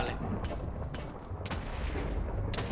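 Explosions go off in Minecraft during a lucky block battle, several sharp booming blasts spaced about half a second apart over a rumbling background, fairly close.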